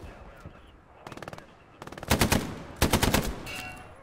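A machine gun fires in a realistic war video game, cutting loose in several rapid bursts that grow louder, each a tight rattling string of shots.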